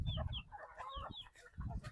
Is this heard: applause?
no